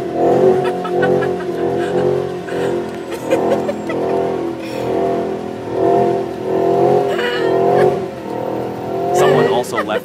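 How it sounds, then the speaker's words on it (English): A BMW M5 performs a burnout, its engine revving hard in repeated loud surges with tire squeal and skidding, and a voice talks over the noise. "The next clip is just a casual BMW M5 doing a burnout"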